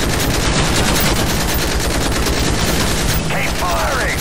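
Sustained automatic gunfire is aimed at a helicopter in the video game Call of Duty Modern Warfare, rapid loud bursts running continuously, with a faint whistling effect near the end.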